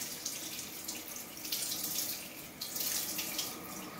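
Water runs from a tap as a paint sponge used for acrylic painting is rinsed, a faint steady splashing stream with brief surges, heard alone without speech.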